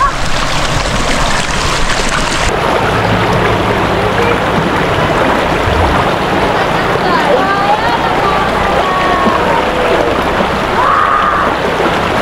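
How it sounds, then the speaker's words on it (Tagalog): Strong river current rushing after a typhoon, a dense continuous roar of flowing water close by, with people talking and calling out over it throughout. "Malakas yung agos dito."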